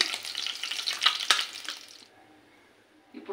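Boiled eggs fry in hot oil with turmeric and salt, giving a loud crackling sizzle with stirring scrapes that cuts off abruptly into near silence before a brief clatter at the end.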